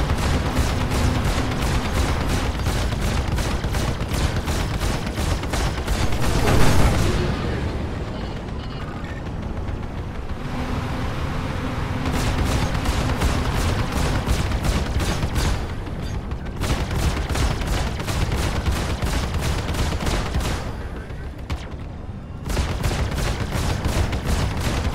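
Four spaceship weapons fire together at a Vanduul ship in Star Citizen's Arena Commander, flying a Gladiator. Dense, rapid, continuous bursts with a sustained roar that pause briefly, then keep hammering loud and close. No speech.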